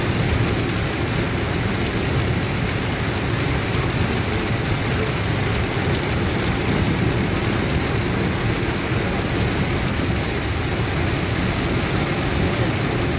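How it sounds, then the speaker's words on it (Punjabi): Heavy rain pours down in a dense, constant roar during a storm, with low rumbles of thunder blended into the steady wash of water, loud and close throughout with no break. "ਵੱਡੀ ਬਰਸਾਤ ਆ ਦੋਸਤੋ"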